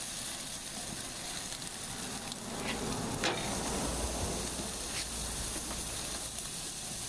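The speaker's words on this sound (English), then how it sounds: "and we're going to go ahead and throw the hamburger on" Hamburger patty sizzling in a pan alongside bacon for a tomato bacon basil cheeseburger, a steady close hiss and crackle of frying fat with a few sharper pops, no talking.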